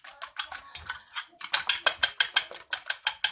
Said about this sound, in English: I'm just gonna whisk